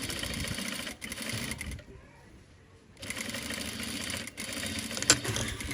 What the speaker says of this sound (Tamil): தைக்கிறத பார்க்குறீங்களோ?